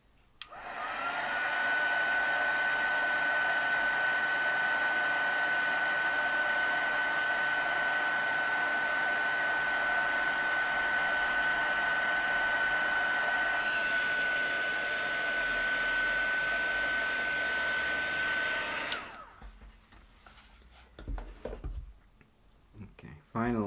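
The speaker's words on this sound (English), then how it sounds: "So right, I'm gonna heat emboss again now." A heat tool runs steadily for about nineteen seconds while heat embossing a card, a loud continuous blowing whir with a steady whine, then it cuts off and handling noises follow.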